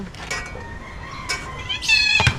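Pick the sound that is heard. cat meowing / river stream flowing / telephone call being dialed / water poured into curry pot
cat meowing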